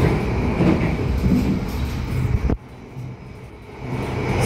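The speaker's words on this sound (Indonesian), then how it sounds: "Lodayanya ngebut guys, ini kecepatan penuh 120 km/jam." The KA Lodaya passenger train running at full speed, about 120 km/h, heard from inside as a loud steady rumble that drops sharply partway through, then rises again.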